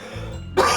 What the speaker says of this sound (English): I'm about to cough.